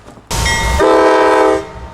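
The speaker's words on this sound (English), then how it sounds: "finally here came G302, the grain train." Norfolk Southern grain train G302 sounding a loud, sustained multi-tone horn close by, starting abruptly and shifting pitch partway through before cutting off, over a low rumble of the passing train.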